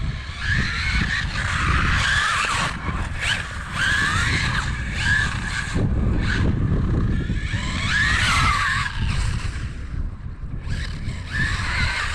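A RLAARLO AMX-12 RC car drives and skids on a wet road, a continuous close whine of the motor with hissing spray and bursts of scrabbling tire noise, steady and loud throughout.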